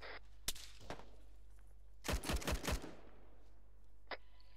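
Gunfire in a military shooter video game: a brief burst of about five rapid suppressing shots, loud and close, with a couple of isolated single shots before and a faint crack after.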